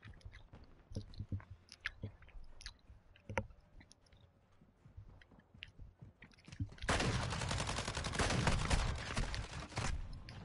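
Sharp, scattered gunshot pops crack through a muffled background in the video game Call of Duty: Warzone 2, then a dense burst of rapid automatic fire takes over near the end.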